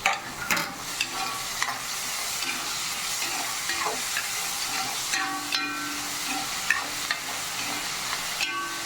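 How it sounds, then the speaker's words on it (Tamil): Tomatoes sauté in a hot pan for rava upma, giving a steady sizzling hiss broken by occasional stirring scrapes and small pops, close and fairly loud. "நல்லா வதக்கிக்கலாம்."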